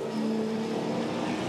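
V8 SuperTourer race car at Pukekohe, a loud sustained engine roar with a steady tonal drone as it passes, continuous and forceful with no voices over it.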